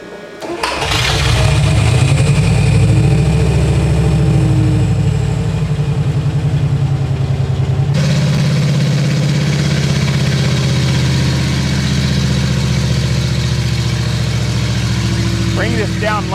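A 350 Chevy engine runs a half-throttle test cycle between 1,500 and 3,000 RPM, a loud, steady mechanical roar close by, holding level and shifting in pitch partway through as the revs change.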